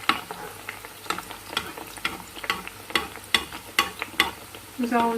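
Rghayef dough sizzling in hot oil as oil is spooned over it, a steady close crackle broken by regular splashy basting strokes about every half second, no talking.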